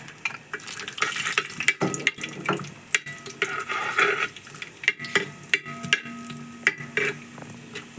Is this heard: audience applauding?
no